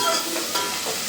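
Onions fry for egg masala while a spoon stirs them through the pan, a loud close sizzle with brief scraping motions over about a second.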